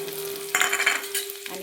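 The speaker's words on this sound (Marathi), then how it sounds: "तर आता आपण ह्यात कांदा टाकूया," Onion dropped into hot oil in an iron pan, a sudden burst of loud close sizzling after a quiet start with a steady hum, then a brief crackling flare near the end.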